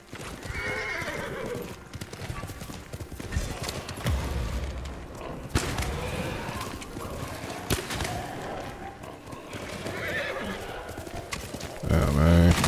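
A horse gallops in Ghost of Tsushima, its rhythmic hoofbeats steady and close, with a whinny partway through, while players talk throughout.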